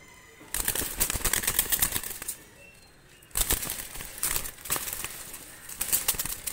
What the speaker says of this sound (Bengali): দুইটা কবুতর আমি ছেড়ে দেখাচ্ছি, দেখেন।